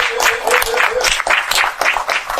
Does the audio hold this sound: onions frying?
no